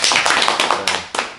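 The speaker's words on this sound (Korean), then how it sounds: "박수 한번 환영하겠습니다" An audience claps to welcome Huh Gwang, founder of Hanggung, onto a Korean talk show stage, in a short, dense burst of applause that swells and tapers without speech.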